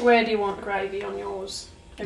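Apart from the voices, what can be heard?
None of the usual background noises is heard.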